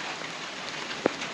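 Light summer rain falls steadily on an Italian farm, giving a soft, even hiss. One closer drop lands with a clear tap near the end.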